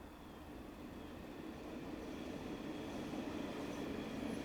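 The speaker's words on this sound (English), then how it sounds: "I hear another train." A train rolls by in the Train Sim World 6 video game on the Northeast Corridor Metro-North line, a steady, broadband rumble with faint wheel noise that swells slightly and holds throughout, with no talking.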